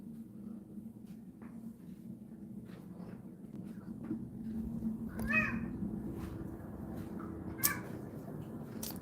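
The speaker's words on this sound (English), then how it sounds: "Let's go watch the cat eat," A cat meowing a few times indoors near its food, short tonal calls standing out over a low steady hum, one brief sharper sound near the end.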